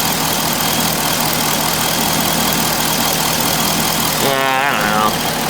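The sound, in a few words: car engine idling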